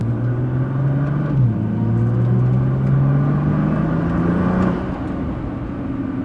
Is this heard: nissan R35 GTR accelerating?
yes